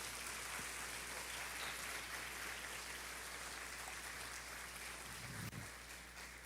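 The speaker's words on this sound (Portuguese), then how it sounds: "pode aplaudir o Senhor" A church congregation applauds in praise during a Portuguese-language sermon, a steady wash of clapping filling the room at even loudness throughout.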